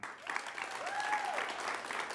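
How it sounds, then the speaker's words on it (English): An improv comedy show audience applauds to vote for a film, giving a short burst of moderate clapping with a rising and falling whistle or whoop riding over it. "just by round of applause, only for the one that you want to see continue. Will it be Tyler's film?"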